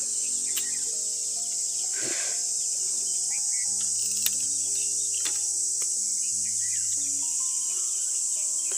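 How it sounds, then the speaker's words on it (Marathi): Crickets trill in a village setting in the early morning, a steady, continuous high-pitched chorus that fills the whole stretch, with a few faint bird chirps scattered through it and no talking. "रातकिड्यांचा आवाज काही कमी नाही."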